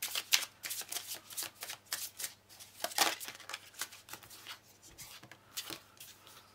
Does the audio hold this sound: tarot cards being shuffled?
yes